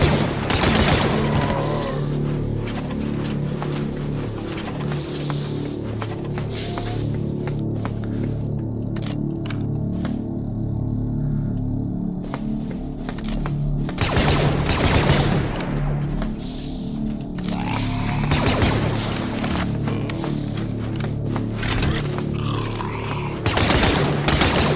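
Blaster fire and gunfire ring out in the Star Wars: Death Troopers video game on PC, with dense repeated shots, sharp bursts and loud booms layered over a constant low rumble.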